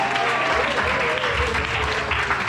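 A church congregation at a third-anniversary evangelical celebration bursts into steady, dense applause that fills the hall without pause, with faint crowd voices mixed beneath the clapping.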